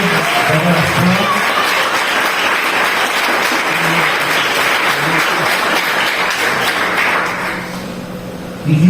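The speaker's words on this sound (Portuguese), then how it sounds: "Vamos aplaudir para o Jesus redimido." A church congregation applauds during a worship service, sustained dense clapping that fades toward the end, with a voice speaking over it.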